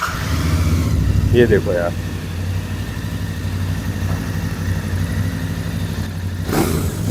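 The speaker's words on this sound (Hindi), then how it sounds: "इसके साइलेंसर की साउंड की बात करें तो आपको थोड़ा सा मैं ऑन करके सुना देता हूँ।" Royal Enfield Bear 650 motorcycle with twin silencers, started and idling inside a showroom, a steady low engine rumble with a brief blip of revs, under someone talking.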